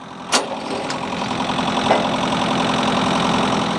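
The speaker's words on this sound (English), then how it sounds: "he's going to drop the 3-point hitch down and then drive away" A tractor engine runs at a steady, close idle as the three-point hitch is lowered, with a sharp clank near the start and a softer knock later.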